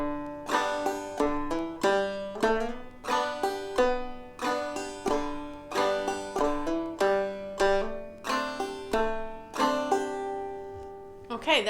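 Clawhammer banjo plays the first section of a beginner lesson tune with both parts combined, a steady run of bright plucked notes and brushed strums with ringing drones, close and alone for about twelve seconds.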